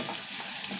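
Chopped green chillies and garlic sizzle in a hot oil tempering for tomato dal with a steady, soft, close crackle.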